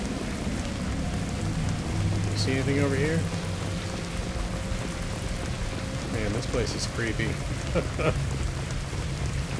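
Steady rain falls in a Mass Effect 2 game level, a continuous hiss of drops on surfaces that runs the whole time under a voice and scattered game sounds.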